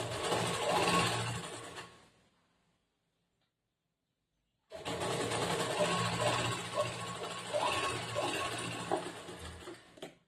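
A sewing machine runs a long basting stitch on a plain blouse, steady whirring motor and needle clatter that stops for a couple of seconds and then resumes, close and alone.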